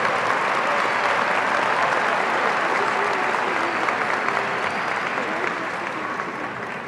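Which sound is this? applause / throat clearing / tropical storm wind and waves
applause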